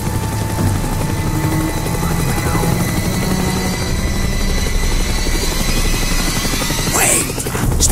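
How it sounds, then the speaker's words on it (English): A helicopter circles in a Call of Duty: Black Ops game scene, its loud continuous rotor thrum filling the whole stretch with a brief crash-like burst near the end. "The chopper is coming around again."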